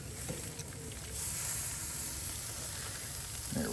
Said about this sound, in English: I'll sear it right here.